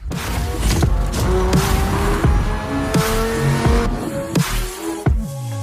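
Car engine revving and tires squealing in a sponsor advertisement, loud and close, with sharp skids and engine bursts repeating in quick succession over continuous motor noise.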